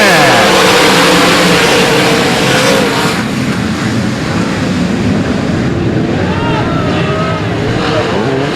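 A pack of race cars roars off at the green flag on a speedway oval, a dense, loud engine wash that hides a commentator's voice. Passing cars make faint rising and falling whines.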